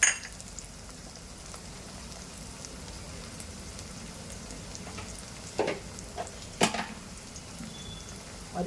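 Cashews frying alongside rice in a pan, a faint steady crackling sizzle with a few sharper pops and light stirring clicks, quiet and without talk.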